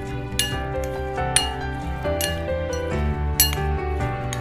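A utensil scrapes and clinks against a bowl while raw mango masala is mixed by hand, with sharp ringing taps every second or so over a steady close stirring sound, without talking.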